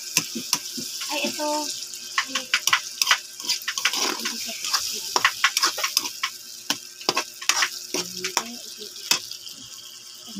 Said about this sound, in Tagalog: Gigisahin muna natin, guys.